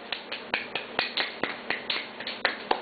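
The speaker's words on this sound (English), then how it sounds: "Clap your hands." A child claps hands about a dozen times in a steady, slightly uneven rhythm, each clap a sharp close slap in a quiet room with no talking.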